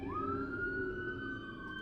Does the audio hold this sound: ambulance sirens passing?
yes